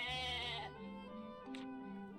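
A goat in Atelier Ryza DX gives one loud, wavering bleat that trails into a second softer bleat, close and clear with no talk over it.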